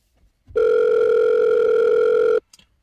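A steady telephone dial tone sounds for about two seconds as a call is placed to a hand car wash, loud and alone, then cuts off abruptly.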